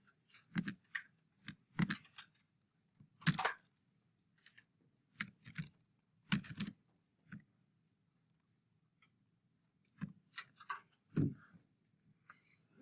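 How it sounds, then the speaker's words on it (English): Keystrokes on a computer keyboard while entering an equation into a graphing calculator, heard as sparse clicky taps in short bursts and isolated presses with quiet gaps between them, close and fairly soft. "So let's go to Desmos and type it in."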